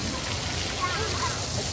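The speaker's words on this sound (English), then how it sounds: "this is the lazy river" Water flowing in a resort lazy river in Kissimmee, Florida, a steady wash and slosh of moving water, close and fairly loud throughout.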